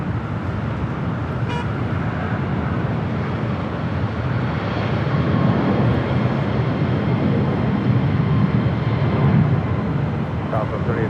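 American Airlines Boeing 777 jet at LAX, a steady, loud engine roar and rumble filling the whole stretch with broadband airport noise and no break.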